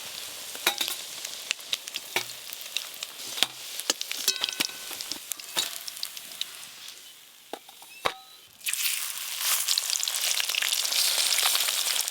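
Fish fritters frying in hot oil crackle with sharp scattered pops and spits, then a loud, dense sizzle rises near the end, close and with no talk.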